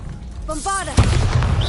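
A Bombarda blast spell in a wizarding video game: a short rising magical whoosh right after a spoken incantation, then a loud booming explosion with a rumbling tail.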